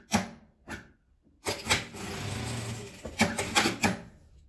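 A sewing machine stitches a seam on folded fabric for a beret, running in short bursts with pauses, its rapid needle clatter close and fairly quiet.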